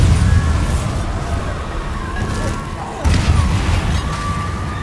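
Booming blasts from the Bombarda spell in Hogwarts Legacy, a dense, loud rumble of explosions with a sharp new burst about midway, under continuous game noise.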